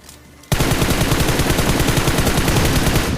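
Sustained automatic gunfire pre-fired in the mobile game BGMI, starting abruptly after a quiet moment and continuing as a loud, rapid, even stream of shots to the end, with no talking.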